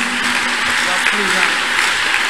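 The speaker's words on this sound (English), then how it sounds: "Clap for Jesus." Congregation clapping at a lively healing and deliverance church service, a dense steady wash of many hands with voices mixed in throughout.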